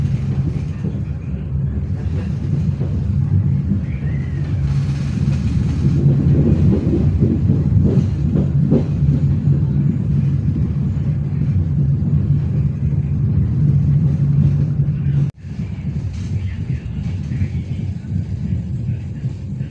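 A Walahar Express local diesel train rumbles past Kelari freight station, a steady loud low drone with rattling over nearly twenty seconds and a brief sharp clack near the end.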